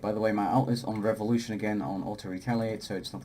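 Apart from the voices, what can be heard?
None of the usual background noises is heard.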